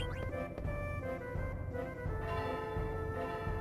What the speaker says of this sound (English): we're going to ring the bell, and that will drop Hippol's secret treasure